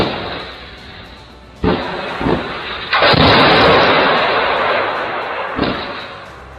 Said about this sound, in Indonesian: Nampak jelas footage menampilkan ledakan yang menghantam sejumlah unit bangunan pada malam